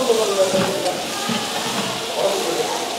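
Crushed small onions sizzle in hot oil alongside urad dal, green and dried red chillies and curry leaves in an outdoor village kitchen, a steady close hiss of frying running throughout with a faint murmur of voices.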